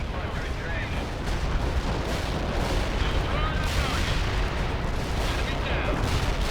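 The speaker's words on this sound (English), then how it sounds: "Artillery barrage inbound." An artillery barrage in the real-time strategy game World in Conflict is a continuous, loud rumble of heavy shell impacts and booming blasts, dense and unbroken throughout, with voices speaking under the roar.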